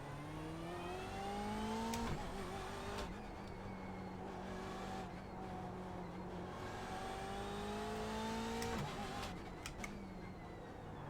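Race car engine in the iRacing sim at the Nürburgring, revving hard with rising pitch sweeps, a sharp drop near two seconds, then climbing again to another high rev before shifting down, loud and close throughout.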